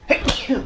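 A single sharp, breathy sneeze-like burst, close and fairly loud, followed by a short softer exhale.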